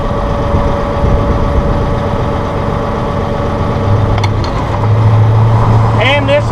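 Massey Ferguson 1700 compact tractor with a CB75 backhoe attachment, its diesel engine idling at low speed in a steady, continuous drone throughout, with a faint brief rattle near the end.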